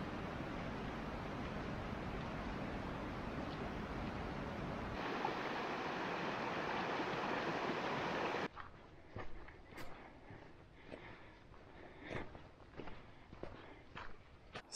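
Creek water rushes steadily at a stream crossing in a wilderness basin, a loud continuous wash that drops away midway to quieter outdoor sounds with scattered footsteps.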